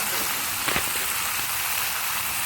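Steady broadband sizzle of soaked, washed chickpeas dropped into hot oil, with a brief crackle near the start and constant frying hiss throughout.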